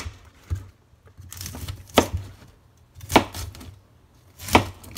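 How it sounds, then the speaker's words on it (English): A knife chops fresh garden cauliflower on a cutting board in a few close, crisp strokes, spaced unevenly, each a sharp crunch ending in a thud on the board. "Then I'm gonna cut my cauliflowers."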